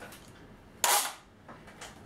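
Snow Wolf PPSH41 airsoft submachine gun switched onto safety, giving one sharp mechanical click near the mic, followed by a couple of faint softer clicks, with no talk.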